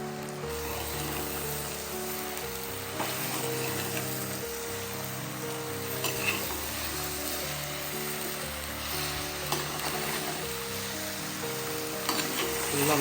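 Marinated chicken for Pallipalayam chicken, a Kongu Nadu dish, sizzles steadily in a hot pan while being stirred, with a continuous frying hiss and occasional scraping strokes, close up and without any voices.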